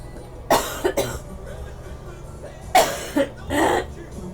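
A radio show host coughs in a studio: two short coughs around half a second apart, a pause, then two or three more. The bursts are close and fairly loud, with no talk between them.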